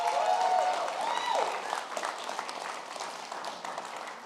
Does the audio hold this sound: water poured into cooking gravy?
no